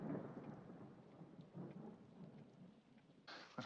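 Thunder rumbles low under steady rain in a film soundtrack, with a brief louder burst of crackling rain or thunder near the end.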